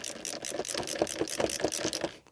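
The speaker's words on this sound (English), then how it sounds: "Now simply do up the screws" Screws on the engine air filter lid of a Ford Mondeo Mk3 with a Duratec HE engine done up with a ratchet, a quick run of about a dozen close, crisp clicks.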